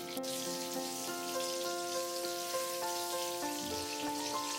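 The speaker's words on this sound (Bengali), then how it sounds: "আলুটাকে আমি ফ্রাই করে নিচ্ছি।" Potatoes frying in hot oil in a wok, a steady close sizzle and crackle running throughout with a faint tonal hum underneath.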